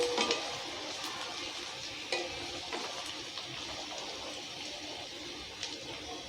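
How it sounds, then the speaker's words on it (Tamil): Onions fry in a pan for Kerala-style mutton gravy, cooked until golden brown. They give a steady close sizzle with stirring scrapes and an occasional utensil knock against the pan, and no one talks. "இந்த ஆனியன் நல்லா உங்களுக்கு கோல்டன் ப்ரௌனாக வரணுங்க"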